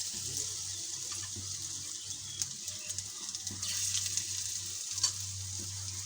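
Onion fritters (piyaju) deep-frying in oil, a steady bubbling sizzle heard fairly softly with occasional clinks and a low background hum.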